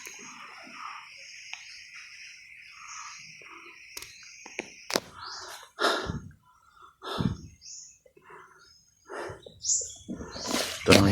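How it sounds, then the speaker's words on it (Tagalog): A crow calls outdoors, scattered short harsh cries with bird chirps and rustling in between, some calls close and loud, others fainter. "Basta may uwak, may panganib."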